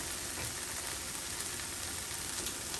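Vegetables such as potato, beetroot, carrot, peas and corn frying in a pan, giving a steady, even sizzle with faint crackles and no talking.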